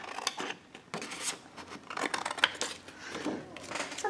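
Scissors snip a printed paper piece out of a Stamperia Magic Forest craft sheet, with several sharp close cuts mixed with light paper rubbing and rustling.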